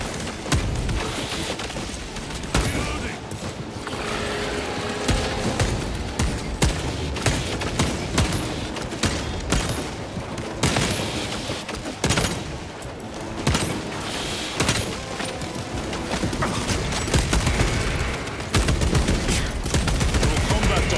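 Dense, continuous gunfire and rapid automatic bursts from the Warhammer 40K Space Marine 2 video game, loud and sustained throughout with scattered booms and a voice briefly heard beneath the shooting.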